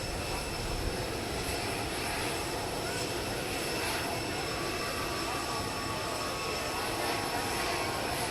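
Air Force One's jet engines idle after landing in Florida, a steady broadband roar with a faint high whine, constant and fairly near, with no other distinct events.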